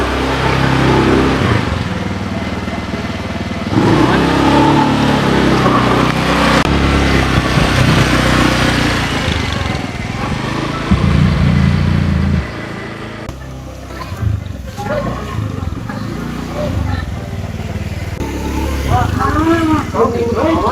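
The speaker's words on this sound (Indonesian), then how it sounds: "sepeda motor ya." A motorcycle engine passes nearby, its buzzing drone rising and falling beneath an ongoing conversation between people.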